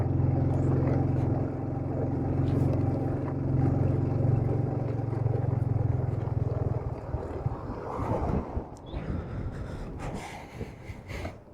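A motorcycle at low throttle climbs toward Khardung La from Leh at about 17,982 ft, its low engine drone steady for around seven seconds before breaking into rougher, uneven wind and rattling noises.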